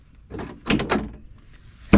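Door of a Segway Fugleman UT10X utility vehicle being opened, a close mechanical handle clunk and latch rattle in a few short bursts, ending with a sharp louder knock.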